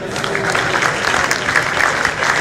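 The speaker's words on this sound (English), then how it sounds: "Another big round of applause." An audience bursts into a loud, dense round of applause after a speech, steady and unbroken throughout with no voices standing out.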